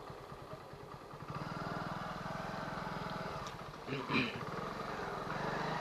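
A motorcycle engine putters at close range, growing a bit louder as it moves, with voices talking faintly over it and some clatter near the end.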